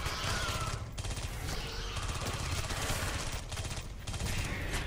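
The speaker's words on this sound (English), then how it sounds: "I've actually just been using the submachine gun this entire time." Submachine gun fire rattles almost nonstop in the sci-fi shooter Aliens: Colonial Marines, dense rapid bursts with brief gaps, loud and continuous alongside game action.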